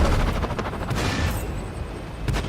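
A tank cannon fires in a tank video game with tank destroyers nearby, a loud booming shot followed by heavy battle rumble and a second blast near the end.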